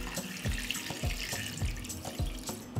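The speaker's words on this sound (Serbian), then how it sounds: "Isipat ću vodu u šerpu do visine poklopca." Water is poured into a cooking pot that holds glass jars resting on a cloth on the pot's bottom, making a continuous splashing gurgle with a steady pulsing rhythm, close up and fairly quiet.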